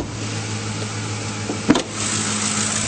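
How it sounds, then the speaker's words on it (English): A 2007 Ford F-150 SuperCrew XLT 4WD engine idles smoothly with a steady low hum, close up, broken by a brief click or clunk partway through. "as you can hear, it's running nice and smoothly"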